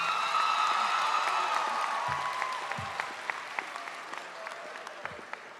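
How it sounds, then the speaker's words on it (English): Audience applause at a Blanche Ely High School 2025 commencement ceremony, a broad sustained wash of many hands clapping, steady and fairly loud, slowly thinning toward the end with a few isolated claps standing out. "Let's give another round of applause for Kellen Dennis."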